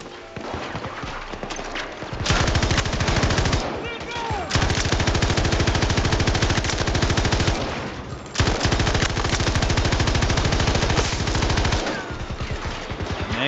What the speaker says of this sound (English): His auto shooting with the LMG.